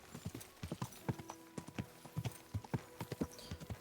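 A horse galloping in the video game Kingdom Come: Deliverance II, rapid rhythmic hoofbeats clip-clopping in steady clusters, fairly close and moderately quiet, with no talking over it.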